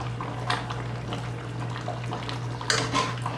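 Steak and onions for Puerto Rican bistec encebollado stirred in a pan, with close utensil scrapes and light clinks over a steady simmering bubble.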